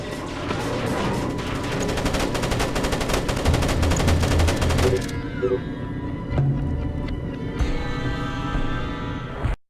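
Turret gunfire in Splinter Cell: Pandora Tomorrow, rapid automatic bursts that rattle loudly and continuously for about five seconds, then stop, leaving ambient game noise with a few faint clicks.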